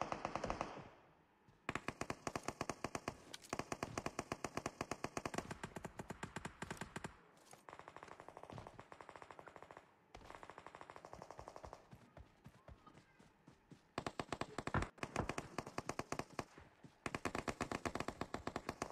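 Rapid automatic gunfire from the video game PUBG Mobile rattles in long, loud bursts with brief pauses between volleys, shots coming in dense rapid strings throughout.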